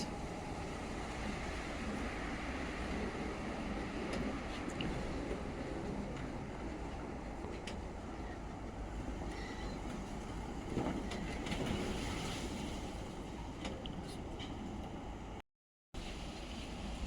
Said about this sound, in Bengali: দেখেন বাতাসের কি আওয়াজ